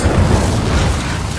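Spell blasts in the video game Hogwarts Legacy, a dense, loud rumbling roar of explosive fire filling the scene with sustained low booming and crackle.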